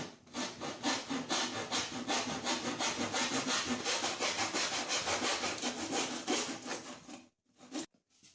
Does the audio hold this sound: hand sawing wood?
yes